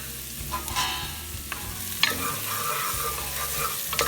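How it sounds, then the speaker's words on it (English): Trinity, cilantro and turmeric sauté in hot oil for an alphabet soup, a soft sizzle running under scraping stirs and a few sharper utensil knocks, fairly close and moderately quiet. "when our oil got hot, I'm going to add this trinity, which will give this immaculate flavor, and the cilantro, the turmeric to it"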